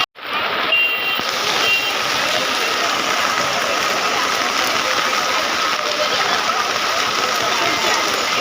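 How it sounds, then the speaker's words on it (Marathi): Heavy rain pours over an outdoor market, a loud, continuous close hiss that fills the whole stretch, with faint voices mixed in. "आता पाऊस आलेला आहे जोरात"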